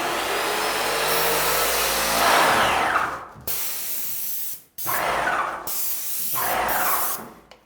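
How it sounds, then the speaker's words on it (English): A paint sprayer hisses loudly up close as it pushes the last leftover paint out of its hose, a long continuous spray that cuts off abruptly, then resumes in several shorter bursts with brief gaps. "the paint sprayer is out of paint and now it's into the water bucket, but I have all of the paint that is in the line that I can still spray"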